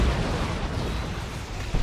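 Artillery strike explosions from a Tempest Barrage in Dawn of War 2, a Space Marines versus Eldar match: a dense, steady rumble of overlapping booms and bursts, loud throughout, with a sharper pop near the end.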